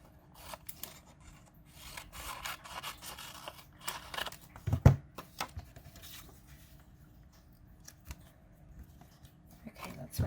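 Scissors cutting a paper printable down to size: scattered soft snips and rustling paper, one sharper cut near the middle, close and fairly quiet with no speech.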